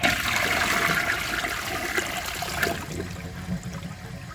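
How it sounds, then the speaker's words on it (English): A 1992 Peerless Hancock toilet with a leaking flapper flushes into a mostly dry bowl, a close, loud rush of water that tapers into trickling and gurgling refill. "For the first flush test, let's see how it flushes with a mostly dry bowl."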